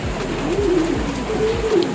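Pigeons cooing close by, two soft rolling coos in a row over a low steady background rumble.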